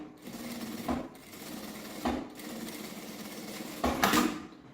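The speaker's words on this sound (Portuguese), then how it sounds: "Na parte reta eu vou passar uma costura com um pé de máquina." A sewing machine stitches a straight seam on fabric for a sling backpack, its motor whirring in steady close bursts with brief louder clunks between runs, no talk.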